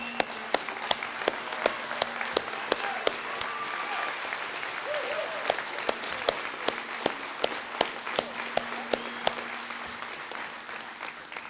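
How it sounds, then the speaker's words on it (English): Steady audience applause from a crowd giving a standing ovation, sustained dense clapping throughout with sharp individual claps standing out nearby, no talking over it. "I think we ought to give him a standing ovation and a big applause"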